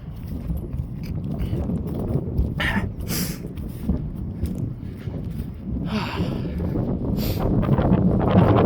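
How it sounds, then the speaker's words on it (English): Steady wind blows across an open recreation field near a golf course, a continuous low rumble and buffeting against the microphone that swells slightly toward the end, with no voices. "It's a bit windier here."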